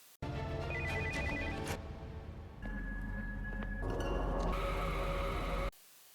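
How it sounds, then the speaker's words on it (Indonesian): A phone rings with a repeating electronic tone that runs for several seconds, loud and close, then cuts off abruptly. "Namun ia hampir saja ketahuan karena ponselnya berdering."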